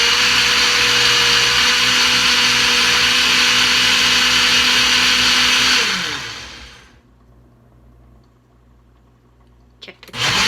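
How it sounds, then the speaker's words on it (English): A blender whirs loudly and steadily for about six seconds blending an almond milkshake, then spins down and stops, leaving quiet with a short clatter near the end. "Most of the people know how to actually use their mixer or whatever, the blender."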